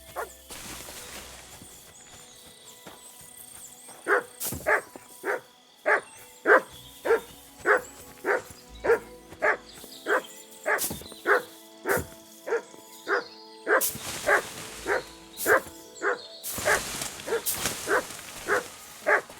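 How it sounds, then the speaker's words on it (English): A dog in the medieval video game Kingdom Come: Deliverance II barks steadily on command, roughly twenty evenly spaced sharp barks at moderate distance over ambient game background with occasional thumps. "Sit and bark."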